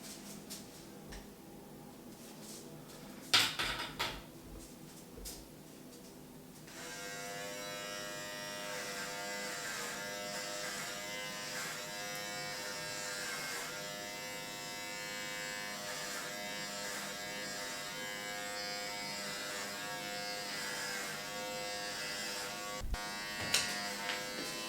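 Electric hair clippers set to 3 mm cut hair on the sides of a head, a steady close buzz running throughout after a brief quieter start with a few clicks and handling knocks.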